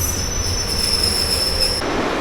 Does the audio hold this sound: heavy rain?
no